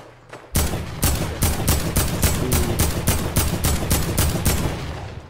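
Rapid bursts of automatic gunfire in the Fortnite video game, a dozen or so sharp evenly spaced shots in a steady rhythm, loud and close with no talk over them.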